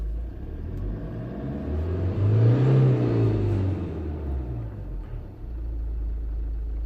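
A Kia Sedona 2.9 CRDI diesel engine with a limp-mode fault rises from idle into a single rev, the low rumble swelling loud and close before falling back to a steady idle.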